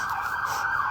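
A siren tone holds steady and loud near 1 kHz for the whole second, likely an ambulance passing close by on the street, with no voices over it.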